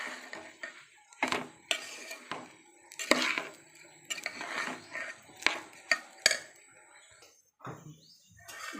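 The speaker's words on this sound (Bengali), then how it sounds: "চালটা একটু নেড়ে নেব।" Grains of rice being stirred in a cooking pot for basanti pulao, five cups of rice, giving scattered scraping and knocking strokes of spoon against pot, close and moderately loud, with soft chirping in the background and no talk.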